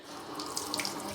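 Running tap water splashing into a sink to wet hands for sourdough bread dough, a brief steady close hiss with small splashes.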